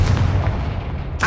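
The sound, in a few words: Confringo fire blast spell cast in Hogwarts Legacy video game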